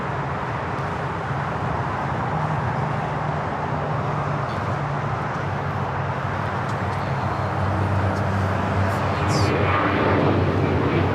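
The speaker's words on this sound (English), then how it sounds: "You have Qantas Flight 15, the Dreamliner from Brisbane, about to touch down on 25 left." A Qantas Boeing 787 Dreamliner lands on runway 25 left at LAX, a broad steady roar of engine and rushing air that builds slightly toward the end, heard from a distance outdoors.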